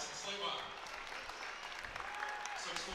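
Crowd applauding at a boys varsity high school basketball game between Westview and West Noble, steady clapping filling the gym under an announcer's voice.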